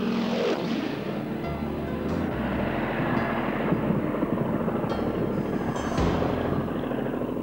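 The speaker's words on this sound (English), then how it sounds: "skies in their 1930s Harvard aircraft" Several 1930s Harvard propeller aircraft fly in formation while skywriting over South Africa, making a loud, steady, continuous engine drone with no one speaking.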